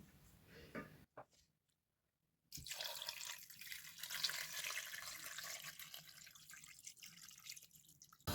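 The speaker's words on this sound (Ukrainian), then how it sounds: "Залишки соку від овочів також виливаю в каструлю." Leftover vegetable juice pours steadily and splashes into a pot after a short silence, a continuous watery rush with faint drips.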